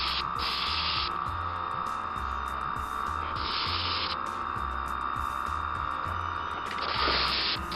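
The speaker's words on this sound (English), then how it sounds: "So it's getting a spray of rail blue" An airbrush hisses steadily as rail blue paint goes onto a Lima HO Class 33 model locomotive, a continuous close spray broken by a few brief louder bursts, with no talking.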